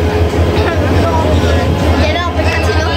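The Mahanagar Godhuli passenger train, on the Chittagong to Dhaka route, pulls into a station with a steady, heavy low rumble and a broad wash of noise, while crowd babble carries on underneath throughout.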